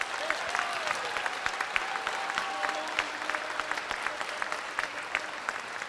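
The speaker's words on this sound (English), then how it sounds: "Let's give them a round of applause." Audience applause at the Galvin Moving On Ceremony 2024, a dense, steady wash of many hands clapping for several seconds, moderately loud and continuous without speech over it.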